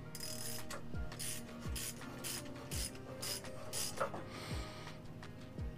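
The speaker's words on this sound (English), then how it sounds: "put the socket back on and tighten this bolt all the way down now" A hand socket wrench ratchets a bolt tight on a set of climbing sticks, with repeated short bursts of clicking strokes at a steady rhythm, close and clear with no talk.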